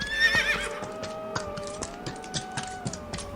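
A horse whinnies near the start, then its hooves clip-clop in a steady walking rhythm, a sound effect set under a Spanish audiobook reading of Poe's The Fall of the House of Usher, with no voice present.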